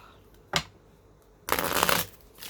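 A deck of cards being shuffled nearby: a quick flick, a pause, then a longer riffling burst and a softer one.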